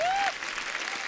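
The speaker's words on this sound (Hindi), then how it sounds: "एक बार जोरदार तालियां" Studio audience applause on a Hindi TV comedy show, a burst of clapping that starts loud with a rising whistle and then settles into steady, slightly quieter clapping across the short stretch.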